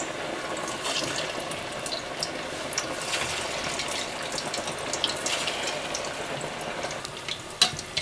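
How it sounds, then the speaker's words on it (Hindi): Marinated fish pieces deep-frying in hot oil for a fish biryani make a constant, dense bubbling hiss with a few small pops over a steady background. "अच्छा सा फ्राई करने के बाद आप इसे निकाल लीजिएगा और बाकी फ़िश भी इसी तरह से फ्राई कर लीजिएगा"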